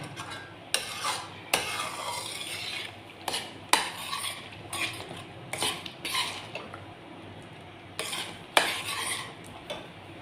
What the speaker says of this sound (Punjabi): ਬਸ ਥੋੜਾ ਥੋੜਾ ਚਿਰ ਬਾਅਦ ਹਲਾਈ ਜਾਣਾ ਐ ਨਾਲ ਹਲਾਈ ਜਾਣਾ